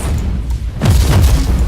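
A plasma cannon firing in the game Warhammer 40,000: Inquisitor, a heavy booming blast that swells after a quieter moment and rumbles low for about a second.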